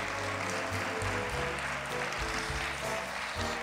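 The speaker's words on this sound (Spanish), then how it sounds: "Otro aplauso para nuestro alcalde" Audience applause for the mayor at the official opening of the Moral de Calatrava patronal fair and festivities, a steady wash of clapping held at an even level under a low room hum and faint murmurs.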